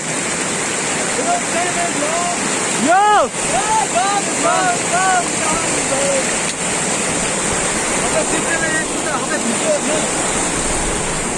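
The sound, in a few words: river water while crossing a stream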